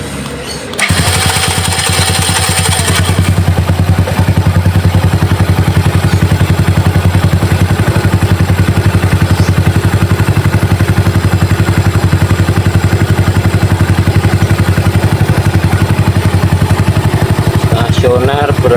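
A Honda C70 motorcycle engine starts and settles into a loud, steady close-up idle with a rapid, even putter that continues unchanged throughout.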